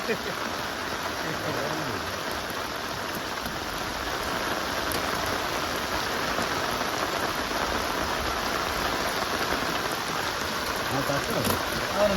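Steady rain in Alappuzha pattering on surfaces, a constant hiss of falling drops at moderate volume with no other sounds standing out.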